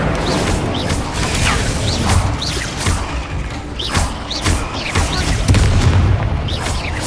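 Incendio fire spell casts in the Hogwarts Legacy video game, a rapid series of loud booming whooshes and thuds repeating roughly every second amid dense combat noise.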